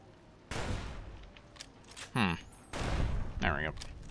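Explosive rounds fired in Fallout: New Vegas, Lonesome Road: a few heavy, booming shots with rumbling tails, close and loud, while a voice talks in between.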